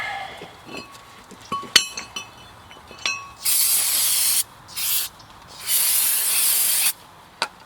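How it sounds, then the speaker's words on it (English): Brake cleaner sprayed onto front brake parts of a 2000 Nissan Maxima: a few clinks of metal, then three loud, close hissing bursts of aerosol spray, the longest over a second. "Brake cleaner."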